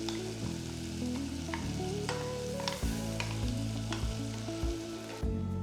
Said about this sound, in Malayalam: തക്കാളി വഴന്നുകൊണ്ടിരിക്കുന്ന സമയത്ത് തന്നെ ചില്ലി പേസ്റ്റ് ചേർക്കാം